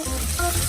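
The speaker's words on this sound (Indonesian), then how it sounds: "Sekarang aku perlu menggoreng daging ini." Meat frying in a pan, a steady close sizzle with faint stirring scrapes throughout the short moment, no talk.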